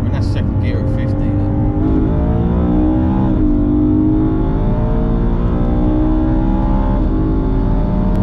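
A stock BMW E92 M3 with its V8 engine accelerating hard in second gear, the loud, close engine note climbing steadily in pitch with a brief dip partway through before rising again.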